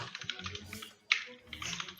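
Rapid keyboard typing in the typing video game Nanotale, a close run of clicky keystrokes in bursts with a brief pause and a louder clack midway, no talk.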